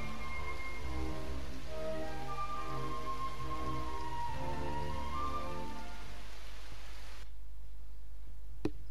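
Steady rain pours in Dragon Quest VIII as a constant even hiss with faint game music tones over it. It cuts off sharply near the end, leaving near silence.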